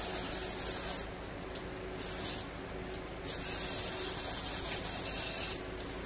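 Brake cleaner sprays from an aerosol can onto oily, dirty parts in several hissing bursts, each lasting about a second, with short pauses between them, close and steady over a low background hum.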